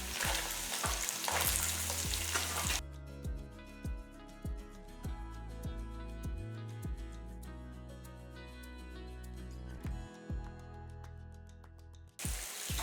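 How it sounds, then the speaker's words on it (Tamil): Shallots and garlic sautéing in a pan sizzle softly at the start and again at the end, while a quiet tonal background fills the long middle stretch. No one speaks. "பாருங்க, வெங்காயம் பூண்டு எல்லாம் நல்லா வதங்கிடுச்சு"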